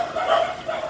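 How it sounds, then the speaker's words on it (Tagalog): Neighbour's dogs barking in the distance: a brief, muffled, faint burst of barking and yipping against a steady background hum. "Kakagulo lang yung mga aso. Yung mga aso sa kapitbahay."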